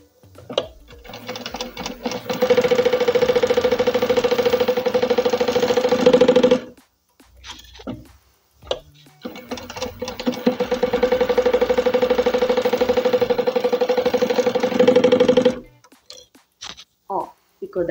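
Sewing machine stitching the seams of an accordion-fold wallet, backstitching at the edges: two long, steady whirring runs of several seconds each, close and loud, separated by short pauses with light handling noise.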